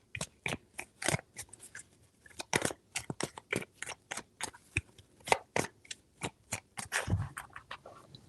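A tarot deck is shuffled in a series of quick riffles and soft slaps, many crisp clustered bursts with brief gaps, close and moderately loud, with no voices.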